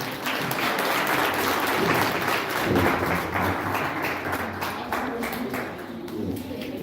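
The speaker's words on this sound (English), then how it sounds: "Let's give them a round of applause as they come." A crowd at a book and wellness center launch applauds steadily, a dense wash of clapping that stays loud throughout with slight swells.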